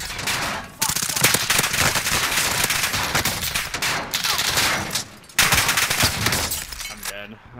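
Video game gunfire comes in dense, loud, sustained automatic bursts with a short pause near the start and another near the end, followed by a faint trailing tone.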